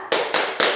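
Schoolchildren in a sixth-grade Islamic religion class clap together in a rhythmic chant, three loud, sharp ensemble claps spaced evenly and close by, with no talking between them.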